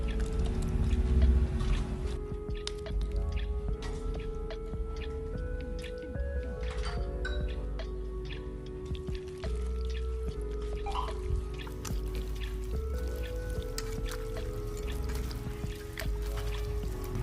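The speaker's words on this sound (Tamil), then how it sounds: "ஃபைனலாக க்ளீன் பண்ணி வச்சிருக்க சிக்கனையுமே இது கூட சேர்த்துட்டு மசாலாலாம் நல்லா ஸ்ப்ரெட் ஆகுற மாதிரி கையால் கலந்து" Raw chicken is mixed with masala by hand in a bowl, making soft wet squishing and squelching sounds. The movements come in irregular bursts over steady low background noise, close up, with no talk.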